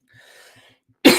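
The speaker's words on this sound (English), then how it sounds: "Sorry, I had to clear my throat." A quiet breathy rasp is followed by one sharp, loud throat-clearing burst close to the microphone.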